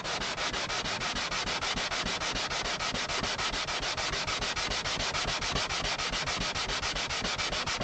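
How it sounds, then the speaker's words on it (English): Steady, rhythmic sanding of an acoustic guitar bridge with fast back-and-forth rasping strokes, close up and continuous, with no voices. "And I'm going to keep sanding."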